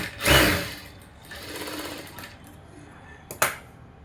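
A sewing machine stitches the lining fabric of a blouse, with a loud close run of stitching at the start, quieter stretches of running after it and a sharp clack near the end.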